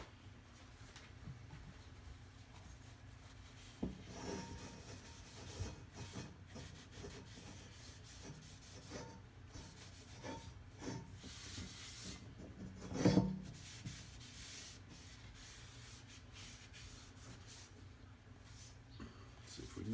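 Soft, steady rubbing and wiping as oil is worked into an Erie cast iron skillet during seasoning, a continuous quiet scraping texture with one brief louder knock partway through.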